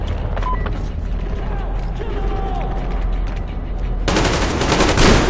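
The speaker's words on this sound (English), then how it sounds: "Covering fire for the Colonel. No saving ammo." Heavy covering gunfire in the video game Metro Exodus, with a dense metallic mechanical clatter and creaking that swells into a loud, sustained burst of rapid shots near the end.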